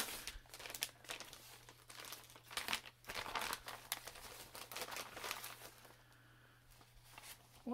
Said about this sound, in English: we're using a box opener, because that's clever